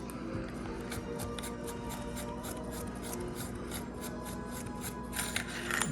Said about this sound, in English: I'm gonna unscrew it from the cage.